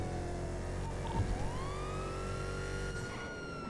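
Police car siren in a roleplay video game, a loud wailing tone sweeping up and down steadily over a dense background of engine and traffic noise, with no talking.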